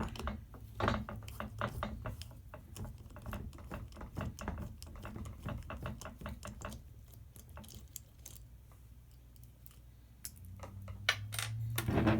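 A ratchet wrench works bolts loose on a Honda CR125 power valve, giving rapid runs of small metallic clicks close by with brief pauses and clinks between strokes.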